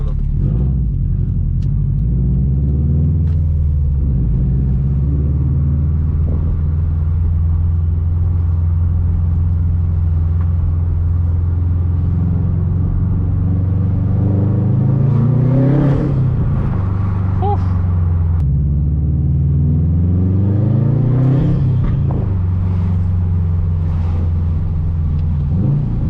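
2021 Subaru WRX STI with an RK titanium track exhaust and stock downpipe, a deep burbling engine drone that swells with revving accelerations while driving, loud and continuous with occasional voices.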